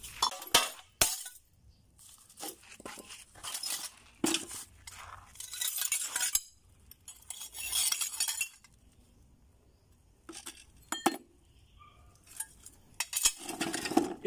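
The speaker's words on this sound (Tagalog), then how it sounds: "So ngayon babasagin ko na." Glass liquor bottles are smashed into broken pieces for setting into a wall, with sharp crashes and shattering bursts followed by clinking and scraping shards, close and irregular with quiet gaps between.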